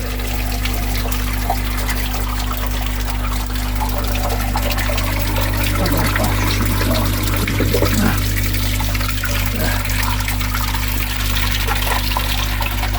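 Water flowing through a pipe held back by a one-way valve, a constant loud rushing and trickling under a deep steady hum, close and continuous throughout.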